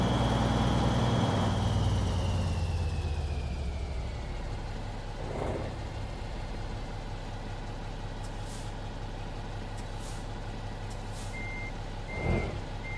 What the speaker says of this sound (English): I really dig this Kenworth truck